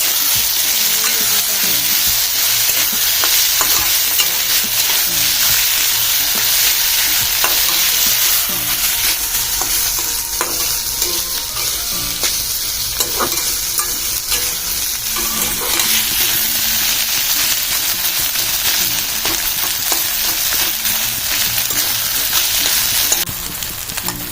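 Onion and green chili paste stirred in a hot frying pan for a fish curry, a loud continuous sizzle close up with repeated scraping strokes of a spoon throughout.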